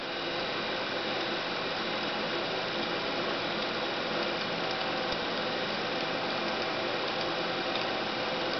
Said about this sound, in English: by changing the resistance in the resistor, you can see how it starts to slow down.